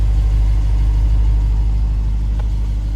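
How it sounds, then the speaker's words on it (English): A 2018 Lexus GS F quad exhaust gives a steady, deep low rumble, as from an idling engine heard close by, continuous and unchanging with no talk. "you can hear that exhaust just rumbling"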